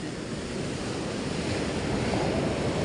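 Stormy-weather sea waves washing ashore on a beach, a dense continuous roar of surf mixed with wind buffeting the microphone, steady and fairly loud throughout with no voices.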